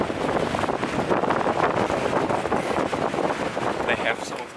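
Steady, blustery wind at the Point Reyes Lighthouse in California roars across the microphone, a broad rumbling rush that stays loud throughout with slight gusting swells.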